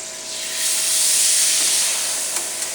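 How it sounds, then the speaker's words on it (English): Milk poured into a simmering bacon fat and flour gravy, a steady loud sizzling hiss that swells and holds, with a couple of faint clicks near the end. "We're going to add in a little milk."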